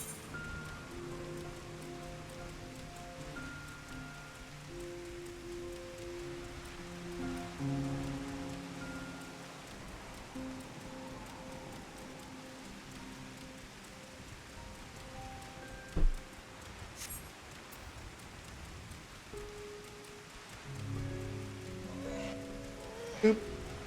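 Soft, continuous rainfall patters in the game Final Fantasy XIV: Endwalker, a faint steady hiss beneath quiet musical tones, broken by a couple of sharp brief clicks.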